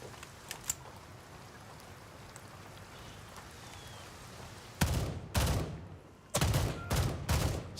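Gunfire in a shooter video game: quiet ambience, then two loud bursts of shots around the five-second mark, followed by a longer run of rapid, closely spaced shots near the end.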